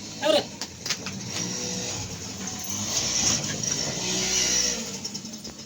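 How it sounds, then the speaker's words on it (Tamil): A car approaching along a road, its engine hum rising and holding steady at moderate distance, with a few knocks and rattles near the start. "சுபாஷ் வண்டி வருதா"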